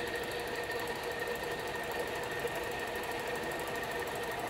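A TOS FA4V vertical milling machine from Czechoslovakia runs its spindle at 250 rpm, giving a steady, even mechanical whir and rattle with no variation throughout.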